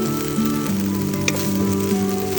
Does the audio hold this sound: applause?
no